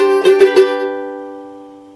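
A quick ukulele strum, a few fast strokes, then the chord rings out and slowly fades, loud and close.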